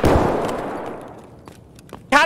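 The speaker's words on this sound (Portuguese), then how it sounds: "eu dei até um tiro sem querer" A single loud gunshot in the realistic shooter game Escape from Tarkov bursts out at the start and fades away with a long echoing tail, and a voice cuts in briefly at the very end.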